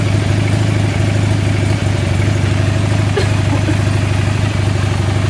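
A cold motorcycle engine with its choke pushed fully in ticks over at a steady idle, a loud, even, close-up mechanical drone with a light clattering edge throughout.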